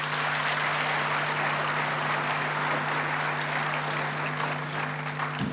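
A graduation ceremony audience breaks into a warm round of applause, dense and sustained clapping from many hands filling a hall at steady strength for several seconds.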